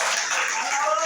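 Congregation at a church service applauding, a dense steady wash of clapping from many hands sustained throughout, with a faint tone rising near the end.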